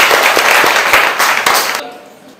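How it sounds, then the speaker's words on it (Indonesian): A small group of schoolchildren in a classroom claps briefly, a short burst of applause that stops abruptly and fades into quiet room tone. "Tepuk tangan dulu untuk Raffi."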